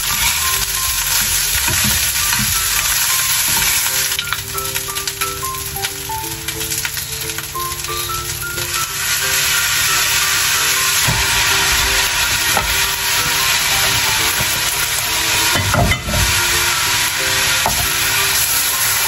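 Garlic fried rice frying in a pan, a loud continuous sizzle with constant scraping and stirring of the spatula throughout, close by and with no talking.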